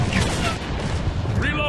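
Dense bursts of suppressive rifle and machine-gun fire in the combat game Operation Flashpoint Red River, loud continuous booming shots under shouted squad radio callouts.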